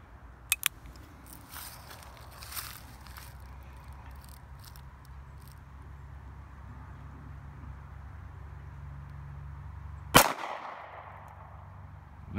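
A single sharp shot from a NAA .22 Magnum Pug mini revolver firing 40-grain rounds cracks out near the end amid outdoor background noise, with a faint earlier click.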